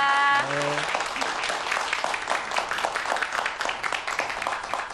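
Audience applause for a mathematics professor after a lecture on a Korean science broadcast, a steady wash of many hands clapping that follows a brief musical tone and continues for several seconds at moderate loudness.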